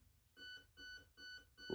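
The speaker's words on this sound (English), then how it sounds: "1 beep is level 1, 2 beeps is level 2, 3 beeps is level 3" Four short electronic beeps from a Specna Arms airsoft gun's Hal ETU being programmed, in an even rhythm, clear and close, separated by brief pauses, with a soft click at the end.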